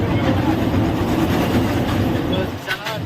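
A passenger train runs steadily with a continuous loud rumble and rolling rail noise, heard from inside, with a faint rattle toward the end.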